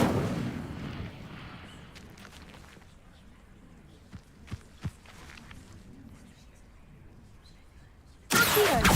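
An Incendio fire spell cast in a video game bursts into a loud roaring whoosh at the start, gives way to a quiet stretch with a few soft pops, then erupts again in a sudden loud blast at the end.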